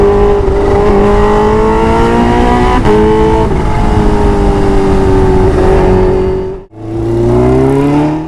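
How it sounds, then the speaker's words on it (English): Kawasaki Ninja H2 motorcycle engine, a loud high-pitched whine rising and holding through revs, cut briefly by a sharp dip near the end before surging back up. "It's the Kawasaki Ninja H2."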